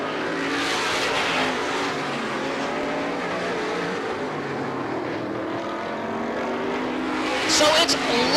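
Race cars roar around an asphalt short-track speedway, a dense, continuous engine drone with shifting pitch as the pack circles, steady and loud throughout with a surge near the end; an announcer talks over it.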